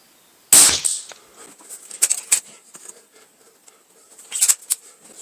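A Weihrauch HW97K spring air rifle fires once with a sharp, close crack, followed by scattered light clicks and handling taps and a second burst of clatter near the end.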